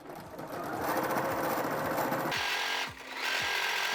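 An embroidery sewing machine stitching yarn onto a banner, a loud rapid mechanical chatter close by, briefly dipping and then repositioning with a few rising whirs before stitching resumes.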